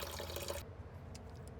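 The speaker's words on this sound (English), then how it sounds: "now I can take off this cap, and that'll allow the gravity to let this pour out a lot quicker" Coolant pours and splashes from the cooling system of a 1997–2001 Honda CR-V into a container, a steady close rush of liquid that drops off abruptly to a faint trickle and drips.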